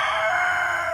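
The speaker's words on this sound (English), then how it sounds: "the rooster keeps interrupting me." A rooster crowing outdoors, one sustained loud call held through the whole second, fairly close.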